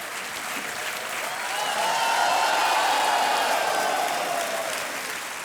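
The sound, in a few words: studio audience applause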